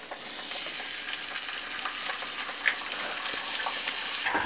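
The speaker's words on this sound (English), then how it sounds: "A good sizzle is always good, a good sign" Bacon strips sizzle and crackle in a hot frying pan for a carbonara, a dense continuous hiss with scattered pops and a few stirring scrapes, close and fairly loud.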